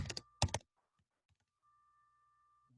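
An email address being typed on a computer keyboard: two short clusters of quick, close key clacks, then a few faint isolated taps and near silence.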